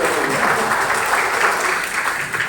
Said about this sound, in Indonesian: mari kita sambut dengan tepuk tangan bagi mereka yang bekerja